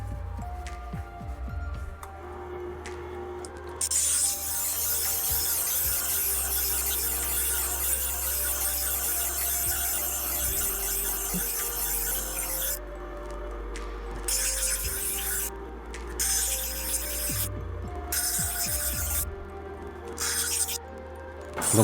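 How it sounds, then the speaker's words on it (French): A Tormek grinding wheel reshaping a broken Yanagiba knife blade, a sustained hissing, scraping grind that runs for long stretches and then breaks into short intermittent passes with brief quiet gaps. "je répare avec simplement une meule Tormek parce que les cassures sont énormes"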